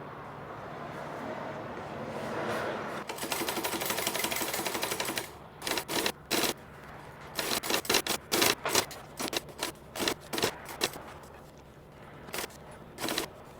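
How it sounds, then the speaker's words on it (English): A sewing machine stitching a wool anorak seam from arm down to the hem, a long steady whirring run followed by many short, choppy bursts of stitching with pauses, close and clear. "So I'm going to start at the arm, and I'm going to sew all the way down and then all the way down to the base of the garment."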